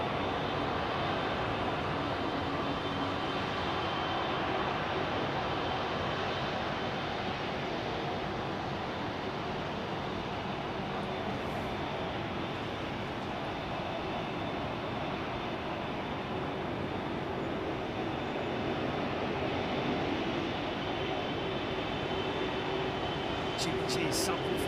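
Aircraft engines drone at an airport during departures, a broad, continuous roar that holds steady for about twenty-five seconds with a faint rushing wash underneath.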